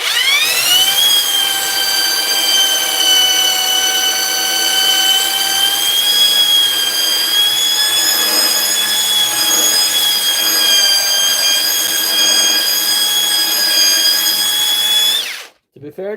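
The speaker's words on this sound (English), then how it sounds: "she is sanding when I eventually get the belt" A Mellif brushless belt sander running steadily, a loud continuous high-pitched whine that holds for about fifteen seconds, then cuts out abruptly at the end.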